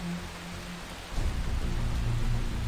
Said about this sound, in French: Et il pleut, c'est terrible.